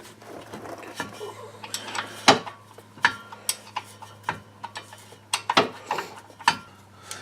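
A wrench loosens 11 millimeter u-joint bolts on a Chevy Blazer, irregular sharp metallic clicks and ratcheting ticks spread through a quiet steady background hum, close up.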